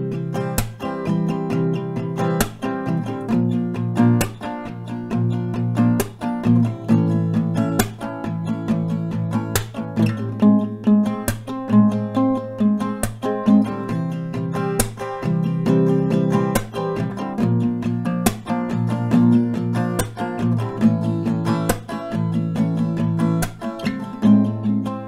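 An acoustic guitar strums a chord progression in a steady, repeating rhythm, sharp downstrokes marking each beat, with no voices.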